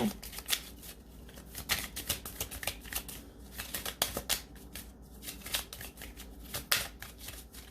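Oracle cards being shuffled in quick, repeated riffling bursts, close and fairly soft, with brief pauses between passes and no talking.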